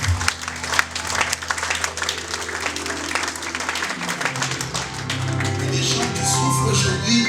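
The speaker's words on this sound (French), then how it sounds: "Acclame pour la gloire du Seigneur." A church congregation breaks into applause during a Sunday service, steady clapping from a crowd under a low musical drone, swelling louder and denser in the final seconds.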